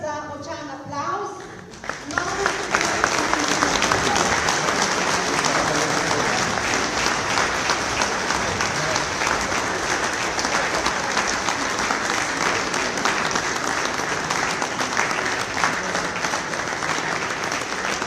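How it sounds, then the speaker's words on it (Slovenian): Strong, sustained applause from a graduation audience honoring graduates at a diploma ceremony, steady dense clapping filling the hall after a brief moment of talk at the start. "Prosim še enkrat za močan aplavz."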